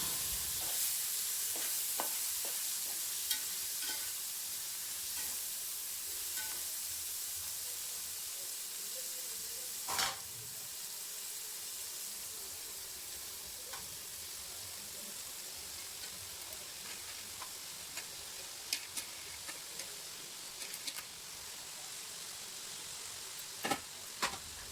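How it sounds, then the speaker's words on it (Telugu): Chopped tomatoes sizzle and steam in a pan with ginger-garlic paste, giving a soft continuous hiss with occasional spoon taps and stirs. It is fairly quiet and no one speaks. "ఇప్పుడు మనం ముందుగా కట్ చేసి పెట్టుకున్న టమాటాలు వేసేద్దాం."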